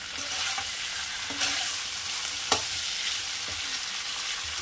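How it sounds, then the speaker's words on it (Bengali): Meat for a vegetarian-style bhog curry sizzles and fries in a pan, a steady close crackle with occasional scraping strokes of a spoon and one sharp clink midway. "এখানে মাংস আমি একটু কষিয়ে নিয়েছি"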